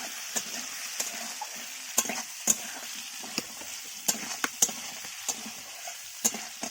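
Ginger and garlic paste fry in hot oil in a pan with a soft, continuous sizzle, broken by repeated light clinks and scrapes of a spoon stirring.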